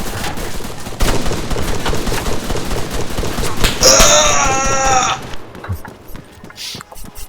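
Gunfire from players shooting in a team game rattles in loud, rapid bursts, nearby and continuous, with a brief wailing tone partway through before the firing thins out.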